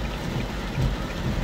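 Heavy rain pours down steadily during a flood drive on Molynes Road in Kingston, Jamaica, a dense constant wash with low rumbling, close and loud, with no talking.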